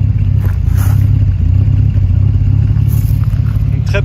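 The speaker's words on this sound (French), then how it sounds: "L'occasion pour vous d'écouter ce 6 cylindres" A 1976 Triumph TR6's six-cylinder engine idles and revs up close, a loud, steady low-pitched drone with a brief mechanical clatter near the end.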